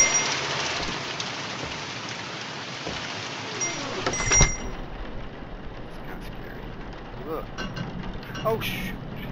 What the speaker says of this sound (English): And then a whole lot of rain.